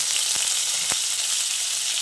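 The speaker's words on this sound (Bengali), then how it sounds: "এবার আদা আর কালো জিরেটা কিছুক্ষণ ভেজে নিচ্ছি" Steady hiss of grated ginger and nigella seeds frying in hot oil, with a couple of soft taps of a utensil against the pan.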